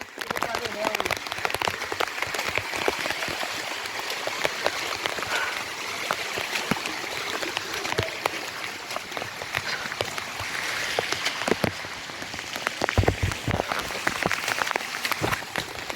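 Steady monsoon rain falls in the Girnar hills near Junagadh, a dense even hiss with scattered drop patters throughout and no clear speech.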